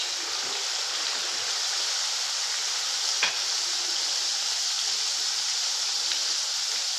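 Cumin seeds crackle and sizzle in hot oil as the base for a mushroom masala, giving a steady, fairly quiet hiss with one brief pop partway through and no voices.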